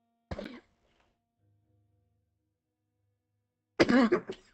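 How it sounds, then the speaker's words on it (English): Two short, sharp coughs separated by a few seconds of near silence, the second a bit longer and louder. "I could hear her coughing up a storm"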